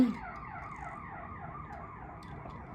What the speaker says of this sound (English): I hear sirens when I'm recording